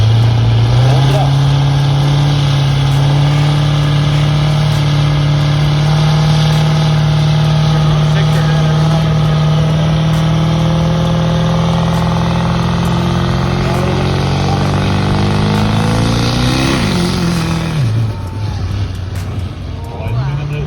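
A drag racing car's engine runs loud and close at a no-prep event in Delaware, holding a steady droning note before the pitch rises and then drops away sharply near the end, with no talk over it.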